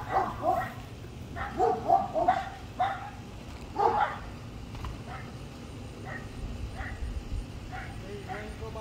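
A dog barks in short repeated bursts, several yips and barks clustered early then sparser and fainter, outdoors with a low background rumble.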